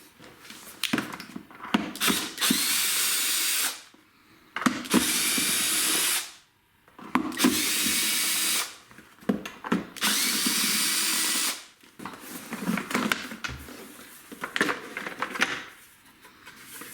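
Cordless power drill removing screws from a Henry Numatic vacuum cleaner, close and fairly loud, in several sustained whirring runs of a second or two each, separated by short clicks, handling noises and brief pauses.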